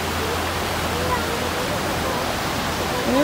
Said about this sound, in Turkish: Bak dereyi görüyor musun? Ne güzel dere akıyor.